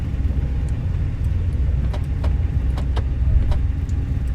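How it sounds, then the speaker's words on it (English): Brakes of a Heinkel HE111 bomber in a Captain Sim flight simulator click as they engage and disengage, a few sharp, spaced ticks over a steady low engine rumble. "That clicking sound is the brakes engaging and disengaging."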